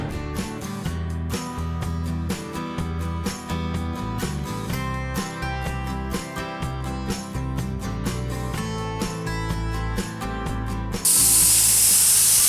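A spray gun lays base coat paint onto a damaged area at the front of a car bumper in rapid hissing bursts. A louder continuous hiss comes in near the end.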